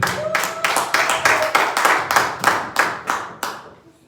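A church congregation claps in praise of the Lord, a brisk run of about a dozen loud, even hand claps close by, fading away at the end.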